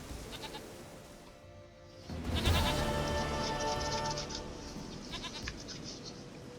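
A goat in the video game The Witcher 3 bleats in a long wavering cry over a busy game soundscape of ambient noise and music.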